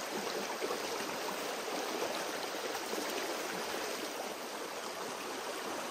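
Water rushes steadily through a gold sluice box set in a tub, a constant close hiss of flowing water with no breaks and no voices.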